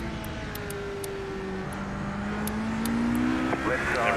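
LMP1 prototype race car in iRacing passing during a Daytona 24-hour race, a steady engine drone with a pitch that shifts and rises as the car comes by, loud and continuous.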